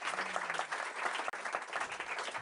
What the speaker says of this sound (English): Let's give them a little round of applause to get them warmed up